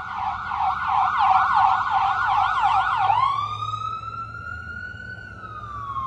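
A loud ambulance siren wails in a fast warbling pattern, then shifts to a slower sweeping tone as it passes nearby a gas station store in America, over traffic rumble.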